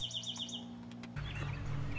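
An eastern towhee sings in the woods, a short series of bright repeated notes up close, followed by a scattered trill, over a low steady engine-like hum that grows louder partway through.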